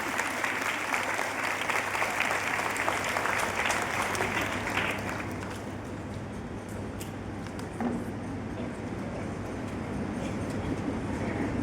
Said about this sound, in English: So let us give them a huge round of applause.